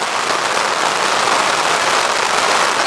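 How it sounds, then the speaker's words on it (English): Steady, loud rain pours without a break, a dense, even hiss of drops striking surfaces close by, with no voices. "Listen to the rain."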